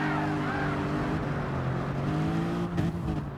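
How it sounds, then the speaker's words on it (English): A Lexus Gr.3 race car on cold tires spins a donut at Monza in Gran Turismo, its engine droning steadily with wavering pitch as the revs shift, loud and continuous throughout. "So you can see the Lexus making an extra donut as well"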